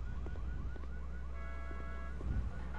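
A 1970s pickup truck's car alarm in The Walking Dead blares with a rapid, repeating chirping whoop over a constant low hum, joined midway by a held multi-tone blare, with no talking.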